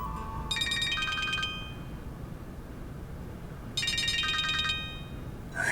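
A phone ringtone plays two short bursts of bright, repeating electronic tones separated by a pause, over faint background hiss.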